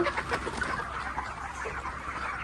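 About eighteen hundred young chickens crowd a poultry shed, their dense, continuous chirping and clucking filling the space at close range, with no talking.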